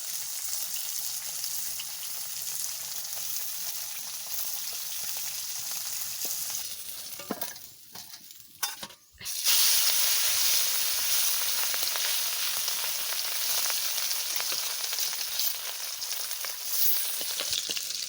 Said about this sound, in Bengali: মাছ ভাজা